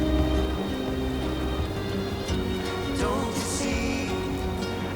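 Steady rain falls during an outdoor stroll in China, a constant close wash of patter with a low rumble beneath and no talking.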